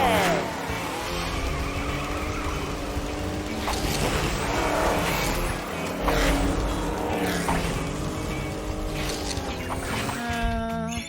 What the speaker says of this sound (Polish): Hej Maverick, testujesz swoje przyspieszenie?